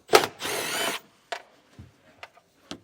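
A power tool whirs briefly to back out 10mm bolts under a felt liner on a 2020 Hyundai, one short burst followed by a longer spin, then a few light clicks and taps of loosened parts.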